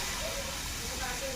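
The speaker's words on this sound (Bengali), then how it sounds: "গরম চাটুই আমি জল দিয়ে দেব।" Water splashed onto a hot griddle hisses and sizzles in a dense, steady rush of steam, close and continuous for a brief moment.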